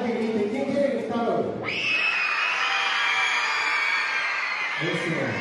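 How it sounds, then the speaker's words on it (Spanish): A large crowd of schoolchildren at a school uniform and supplies handout in Ciudad Valles screams and cheers loudly. High-pitched shouting swells after someone speaks into a microphone and continues until his voice returns. "Los vamos a dejar que griten. ¿Quién quiere gritar"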